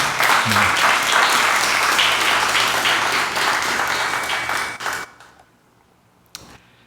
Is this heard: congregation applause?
yes